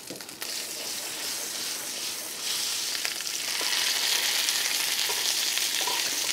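Food sizzles and crackles steadily in butter in a hot pan, the frying growing louder and fuller toward the end, with occasional soft clinks.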